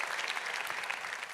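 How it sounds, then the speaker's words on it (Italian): Brief applause for the New Quartet, a music group, at the 40th Giuseppe Dessì literary prize celebration: a short, even burst of clapping from an audience, moderately faint and steady. "Ancora un grande applauso al New Quartet che rivedremo tra poco."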